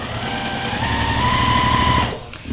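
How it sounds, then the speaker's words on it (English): A sewing machine stitching a short, tight seam on a flying geese quilt, a fast steady mechanical whir with a rhythmic needle chatter, loud and close, stopping abruptly near the end and followed by a faint click. "So I'm just sewing to the line."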